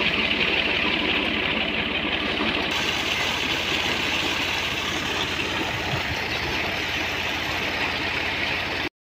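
A tractor engine drives a water pump beside a canal, running as a steady loud rumble throughout with no speech, cutting off abruptly at the end.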